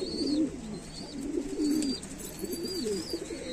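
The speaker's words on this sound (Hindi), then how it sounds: "भाई कबूतर यार परेशान कर रहे हैं अंदर," Pigeons cooing indoors in a loft, several rolling coos repeating throughout at close range, with faint higher chirps over a steady low room background and no talk.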